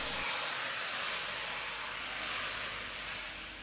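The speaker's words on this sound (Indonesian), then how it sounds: "Kita tuang aja minyak panas 150 ml." Hot oil, about 150 ml, poured over peanut sambal for siomay and batagor, gives off a loud, steady broadband hiss and sizzle that fills the whole few seconds and eases off slightly at the end.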